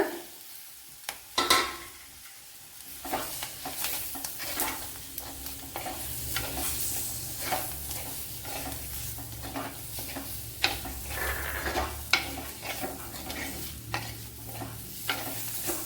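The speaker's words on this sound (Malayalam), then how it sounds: "ഇത്ര ഇട്ട് കൊടുത്തൊന്ന് വഴട്ടാം ഇനി ഒരു തക്കാളി അരിഞ്ഞു വെച്ചിട്ടുണ്ട് അത് ഇട്ട് കൊടുക്കുക" Chopped tomato sautés in a pan for a colocasia curry, with a gentle sizzle throughout and frequent sharp clinks and scrapes from a stirring spoon against the pan.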